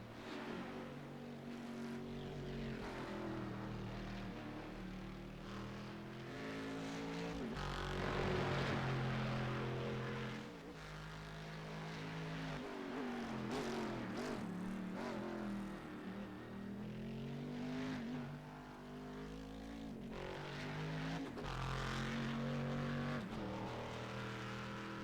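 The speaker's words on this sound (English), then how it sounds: "so much fun to listen to that Corvette make its way around" A GT1 Corvette race car circulating a racetrack, its engine note rising and falling through gear changes and corners over a long continuous pass, moderately loud with no one talking.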